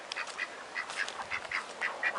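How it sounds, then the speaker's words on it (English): Indian runner ducks on a homestead near a pig pen quack repeatedly in a rapid, uneven chatter, several birds calling over one another at moderate distance, with no talk. "you can see some of the other ducks hanging out here"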